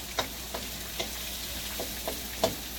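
Potatoes frying in a skillet for country fried taters, a soft steady sizzle punctuated by several sharp clacks of a utensil against the pan, fairly quiet and close.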